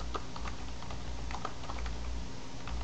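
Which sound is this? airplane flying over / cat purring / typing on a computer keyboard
typing on a computer keyboard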